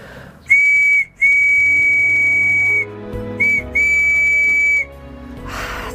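A small wooden whistle is blown in four shrill, piercing blasts of varying length, loud and close, with short pauses between them.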